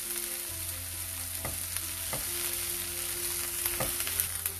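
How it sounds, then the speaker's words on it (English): Ginger garlic paste fries with onions in a pan, giving a steady close sizzle with a few faint stirring scrapes and no talking. "We'll add ginger garlic paste so that it loses its rawness and fries along with the onions."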